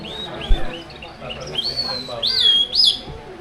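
Several high, clear whistled bird calls, rising and sliding, repeat in short bursts; a person whistles the imitation close by in the mountains near Puerto Princesa, Palawan, with a faint voice in the background.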